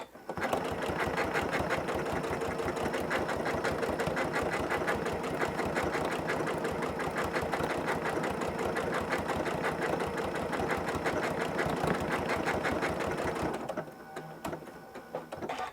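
Close and continuous, a sewing machine sews a decorative stitch across a whole cloth quilt, its fast regular needle pulses holding steady for nearly fourteen seconds, then halting, followed by quiet fabric handling.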